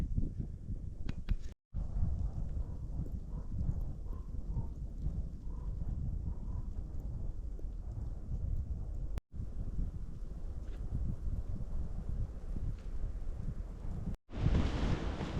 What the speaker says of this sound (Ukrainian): Знову вітер розбирається